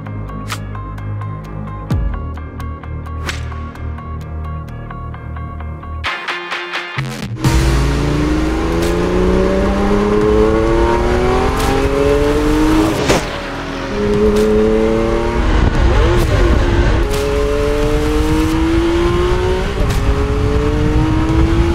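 Porsche race cars, a 936/81 Spyder and a 924 GTP, run laps on a test track, their loud engines revving hard through rising and falling gear changes, close and continuous with brief drops between pulls.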